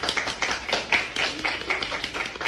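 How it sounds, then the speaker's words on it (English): Audience clapping for themselves at a cosmetology school talk, a dense, steady patter of many hands in a room, moderately loud with irregular sharper claps standing out. "I really want everybody just to clap for yourself for being here."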